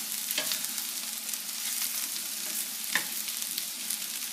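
Diner-style home fries, potato pieces browning in a frying pan, giving a soft steady sizzle with a couple of brief scrapes as they are turned, no voices.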